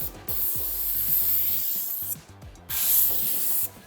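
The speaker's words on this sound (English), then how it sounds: "I'm gonna use the True Spray to blow out this bottom seal." A True Spray bottle with a fan tip sprays in two long bursts, close and hissing, to clean a window's bottom seal, while rubbing and scraping sounds run underneath.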